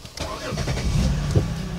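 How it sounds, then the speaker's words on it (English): A car engine cranks briefly and catches, then settles into a steady mid-pitched idle, close and fairly loud with no talking. "We're gonna turn on the car."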